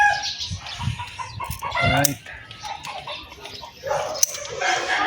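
Chickens cluck at a busy outdoor fish market, with bursts of crowd chatter, rustling and a voice speaking briefly nearby.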